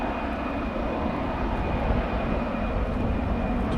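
An airplane on the runway at DFW airport, its engines producing a loud, steady broadband roar with a faint high whine, continuous and fairly close, with no talk.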